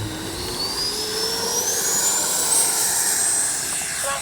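A Freewing 80mm L-39 RC electric ducted-fan jet flies past, a loud steady whooshing roar with a rising whine that sweeps upward in pitch as it passes close overhead.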